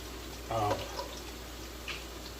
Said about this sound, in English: we need some of this bacon grease. Pour it on top of the chips